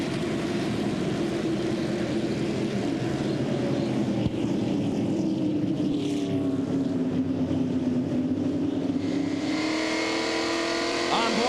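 Stock car field roaring out of turn four at the start of an ASA race at Lakeland, a loud continuous engine drone with rising pitch as the pack accelerates past, while a voice talks over it.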